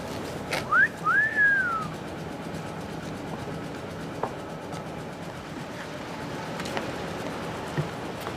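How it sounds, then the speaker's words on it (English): A short two-note whistle rises and slides down near the start, followed by a steady low rumble of background noise. "He didn't like that whistle."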